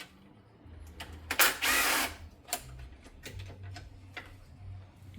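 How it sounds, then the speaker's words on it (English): Ratchet clicks and a sharp, loud burst of breaking force as a wrench frees a stuck bolt on a 2002 Dodge Ram 1500 4.7L engine during head gasket work, followed by scattered quieter mechanical clicks and taps. "That one does not want to come out. I broke it loose with the wrench."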